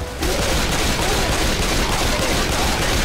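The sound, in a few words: gunfire in the video game Left 4 Dead 2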